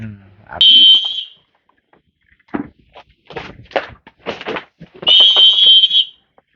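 A keeper at a bird enclosure blows a whistle to call the painted storks: two loud, sustained shrill blasts, about a second each, separated by a stretch of speech.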